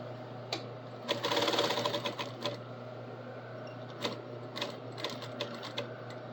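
A sewing machine stitches an apron in short close bursts, one busy run near the start followed by a few brief stitching spurts, with no talking.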